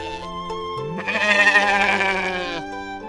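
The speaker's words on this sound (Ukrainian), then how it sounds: "А це гімалайський козел. Він мекає." Cartoon Himalayan goat gives one loud, wavering bleat lasting about a second and a half over a steady musical background.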